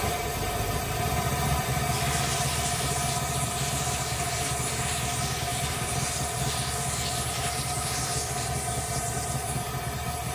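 An LS-swapped engine with an overheating problem runs at a steady idle with its radiator cap off, a continuous droning hum that holds level and fairly loud for the whole stretch, with no talking.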